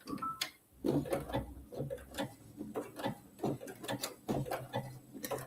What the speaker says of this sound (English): I'm going to go ahead and just do an easy stitch right here to add my snowflake.